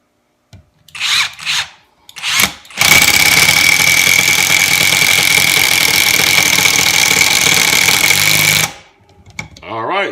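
Kimo 20V brushless impact driver sinks a 3-inch screw in a long, loud, continuous rattling hammer-whine lasting about six seconds, bracketed by brief speech before and after.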